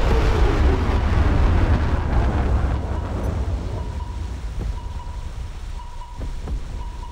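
A torpedo launches from the nuclear submarine HMS Valiant in War Thunder Mobile: a heavy, rumbling underwater whoosh that starts loud and slowly fades, with faint tonal pings near the end.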